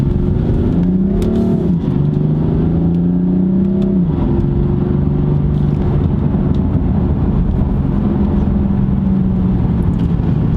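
A 2018 BMW M4 Competition F82 engine revs hard through rapid downshifts from fifth toward first gear, rising and falling tones stacking close and loud over steady road and wind roar, with no talking.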